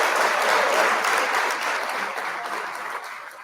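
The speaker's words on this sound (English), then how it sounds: "I'd like to ask anyone who's watching online for a round of applause for everyone" An event audience gives a round of applause, sustained clapping that stays loud and close before gradually thinning and fading toward the end, with no voices over it.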